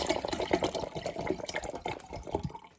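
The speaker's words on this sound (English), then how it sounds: "I'm gonna refill my cup with water." Water runs from a tap into a cup in a home kitchen, a steady close splashing and gurgling fill that fades as the flow stops.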